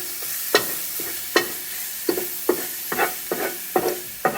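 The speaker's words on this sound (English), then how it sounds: "Mix all of that again." Rasta pasta sauce with fresh thyme being stirred in a pan on a low stove, a spoon scraping in repeated strokes about every half second over a soft sizzle.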